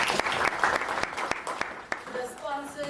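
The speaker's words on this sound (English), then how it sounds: "can we give them a big round of applause for joining us today?" Applause from the audience at a soccer tournament media launch and draw, a steady patter of clapping with sharp louder claps, fading as voices and a tonal sound come in near the end.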